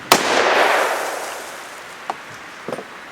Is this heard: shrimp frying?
no